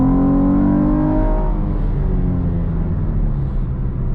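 A 2019 Chevrolet Camaro 1LT accelerates at full throttle, its engine note climbing steadily then dropping as a gear shifts, with a loud droning rumble heard from inside the cabin.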